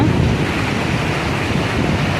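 Floodwater of the swollen Wainganga river rushes loudly under a bridge at Ashti, Gadchiroli, a steady, dense roar of surging water with some wind buffeting the microphone throughout.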